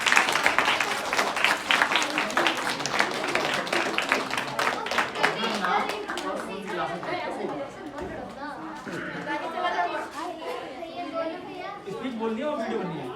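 At a children's Swami Vivekananda program, an audience claps loudly in a dense burst that slowly thins into scattered clapping, under lively chatter from children and adults.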